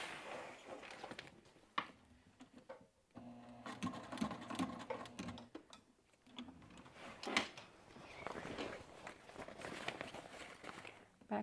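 A sewing machine stitches across thick apron webbing in short, quiet runs that start and stop as the fabric is pivoted, with soft handling clatter between bursts.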